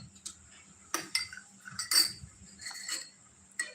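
Creatine powder stirred into water in a glass, with a spoon clinking and tapping against the glass in quick irregular bursts, close and fairly quiet, with no talking.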